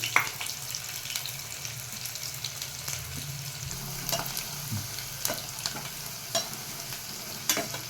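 Beans and vegetables for a veg biryani fry in an open pan, a close, steady sizzle broken by scraping stirs and occasional sharp spatters, with no talk.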